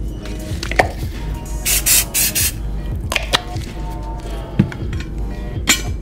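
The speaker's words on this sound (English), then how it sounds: "You gotta spray down all your tools after." A spray bottle of water or aftershave misting barber tools in a barbershop, several short hissing sprays in quick bursts with faint clinks of metal tools between them.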